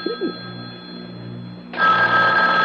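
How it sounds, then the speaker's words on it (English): A telephone bell rings loud and sustained in the second half of a radio mystery drama scene, following a stretch of quiet room tone with a faint voice fragment at the start. "The phone."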